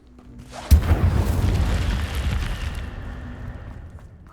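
In Hogwarts Legacy an Incendio fire spell goes off with a sudden deep boom, followed by a rolling, crackling roar that slowly fades over several seconds.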